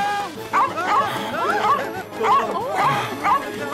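A dog in a children's cartoon gives a string of short, bright barks and yelps in quick bursts, loud and close, mixed with other excited voice-like sounds.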